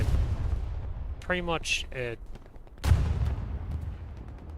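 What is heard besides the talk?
artillery fire in the video game Hell Let Loose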